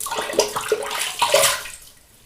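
Water runs and splashes close by as someone rinses off after a shave with a shave stick and a classic safety razor. A couple of seconds of uneven sloshing fade out at the end.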